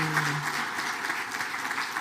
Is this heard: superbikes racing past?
no